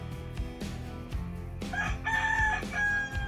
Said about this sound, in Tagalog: Yon, manok!